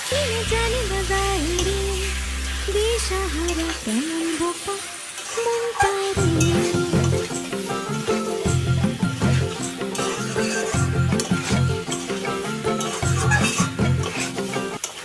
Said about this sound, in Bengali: এবার সব কিছু মশলার সাথে ভালো করে মিশিয়ে নেব